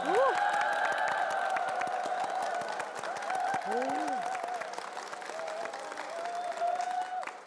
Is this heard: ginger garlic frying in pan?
no